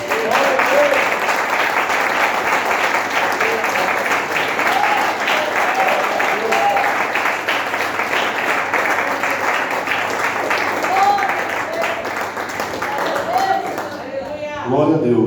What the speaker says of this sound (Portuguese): E vamos dar uma salva de palmas ao Senhor Jesus.